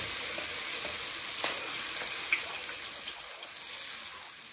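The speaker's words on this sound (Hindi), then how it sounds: "ये जब पूड़ी अंदर जाएगी ऑयल में खुद ही गोल हो जाएगी।" Puri dough sizzles in hot oil, a loud, continuous bubbling fry with small crackles and spatters, close up and without speech.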